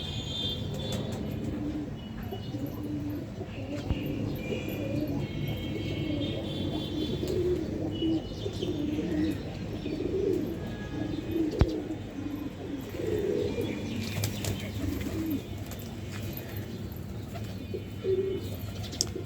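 Pigeons cooing softly in a low continuous murmur at morning feeding time, with faint background noise and a few small sharp sounds.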